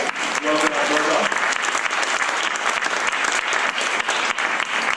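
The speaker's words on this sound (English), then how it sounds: "And then the round of applause" Enthusiastic audience applause in a hall at a science festival talk, starting briefly under a speaking voice and then swelling into sustained, dense clapping from a sizable crowd.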